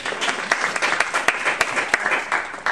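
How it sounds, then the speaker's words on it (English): An audience at a talk breaks into applause, a steady wash of many hands clapping at fairly even loudness for a few seconds, with no speech heard. "Applause,"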